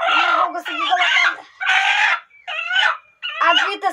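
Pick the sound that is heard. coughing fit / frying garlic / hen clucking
hen clucking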